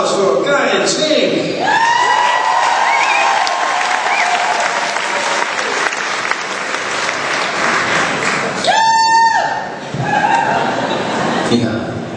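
At the Glamour Glammies awards ceremony, a crowd fills the room with steady, loud applause, and a few whoops and chuckles break through. A voice speaks over the clapping partway through.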